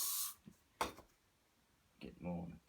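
Short bursts of spraying hiss, a couple of quick puffs from an aerosol can, faint and close, followed by a soft clatter and a brief voice-like sound.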